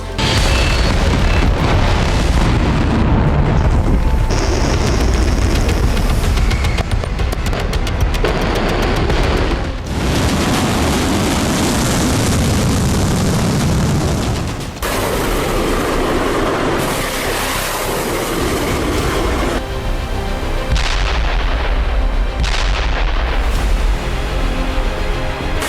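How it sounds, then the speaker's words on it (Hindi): Missile strikes and explosions in the Russia-Ukraine war roar as loud, heavy booms and sustained rumbling blasts, repeated in sections across the whole stretch, dense and overwhelming with no voices. "रूस यूक्रेन जंग में दोनों तरफ से मिसाइल से हो रहा प्रहार"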